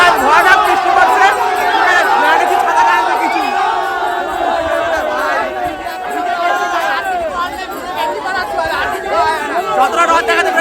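A packed Rath Yatra festival crowd out in the rain, its dense chatter and scattered shouts forming a loud, continuous babble close around the listener.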